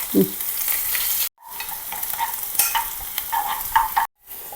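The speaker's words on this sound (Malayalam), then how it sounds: "കറിവേപ്പില ഇട്ടേക്കാം" Curry leaves crackle and sizzle loudly in hot oil while a spoon stirs through them, with two brief cuts to silence.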